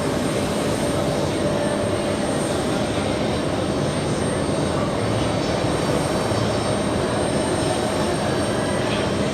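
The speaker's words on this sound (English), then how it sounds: "Korean Air 747 arriving on runway 4 right" A Korean Air Boeing 747 arrives on runway 4 right at JFK airport, its jet engines a steady, continuous roar heard from a distance with no break across the whole stretch.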